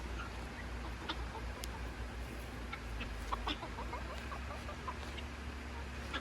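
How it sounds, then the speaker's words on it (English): Chickens cluck softly in a quiet yard, with a rooster's calls and scattered bird chirps over a low steady background hum. "That was the rooster that she grew up with."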